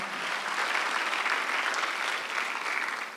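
A church congregation applauds during a Sunday worship service, with dense, steady clapping at moderate volume that holds throughout.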